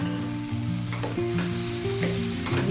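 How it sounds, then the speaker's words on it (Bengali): Eggplant bharta with chopped coriander is stirred in a hot pan, a soft steady sizzle with occasional scraping strokes, accompanied by background music. "কিছুক্ষণ সময় নিয়ে নাড়বেন"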